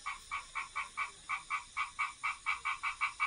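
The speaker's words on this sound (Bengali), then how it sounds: "ব্যাঙও ডাকছে, সেই গ্রামের দিকে যে পরিবেশটা একদম ফুটে উঠছে" Frogs croak outdoors in a village, a rapid regular run of about a dozen evenly spaced calls, fairly close and clear against a quiet background with no voices.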